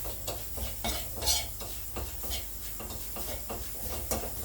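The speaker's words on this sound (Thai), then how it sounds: "คั่วข่าตะไคร้ให้หอมๆก่อน" Galangal and lemongrass being dry-roasted in a pan for a Thai herbal larb of sun-dried pork: a steady run of light scraping stirs and soft clinks from utensil against pan, repeating about every half second, close and moderate in level.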